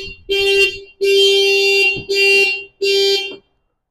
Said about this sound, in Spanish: El sistema de inmovilización o alarma que trae el vehículo.